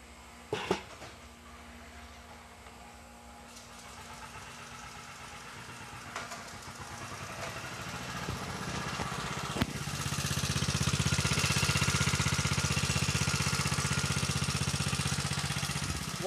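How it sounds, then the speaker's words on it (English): An engine said to run on water gas starts up after a belt is engaged and pulled off, settling into a steady mid-pitched running drone that grows louder and fuller toward the end, with a few sharp knocks along the way. "start the engine, then he'll pull the belt off, and it's running on nothing but water gas"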